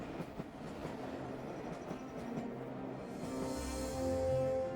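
Train running on rails through the Scottish countryside, a steady rolling rumble with light rhythmic clatter that swells louder toward the end, with no voices.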